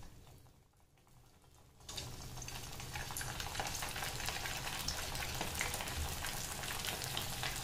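Khandeshi batti deep-frying in hot oil, a steady loud sizzle that swells in after a quiet start and holds dense and continuous to the end.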